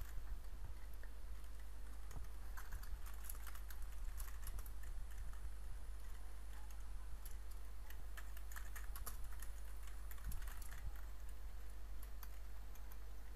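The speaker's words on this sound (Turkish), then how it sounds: "Burada Purple'a yazı yazıyorum abi." Fingers type on a computer keyboard while building a Scratch game, a steady stream of quiet, close clicks and taps with brief pauses, no voices.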